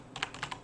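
Quick, light keystrokes tap on a computer keyboard, about five clicks in under a second, soft and close with no talking.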